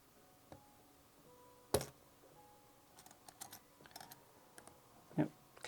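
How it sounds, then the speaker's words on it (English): Sharp, sparse mechanical clicks from a 1960s Nikkor lens mechanism being reassembled, a few distinct ticks spread irregularly over a quiet background, close and fairly faint. "Yep, clicks are working."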